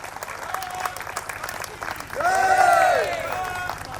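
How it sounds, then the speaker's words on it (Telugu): An audience at a talk applauds in a steady wash of clapping that swells louder midway, with voices calling out over it. "చప్పట్లు కూడా అంత గట్టిగా కొట్టాలి."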